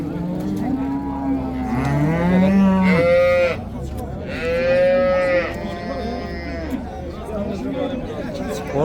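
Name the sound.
cow mooing at livestock market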